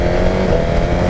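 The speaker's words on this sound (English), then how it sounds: "Very good quick shifter." A Suzuki GSX-R1000R motorcycle engine under hard acceleration with a quick shifter, a loud steady roar with strong low harmonics and a slight pitch shift near the middle, heard close and alone.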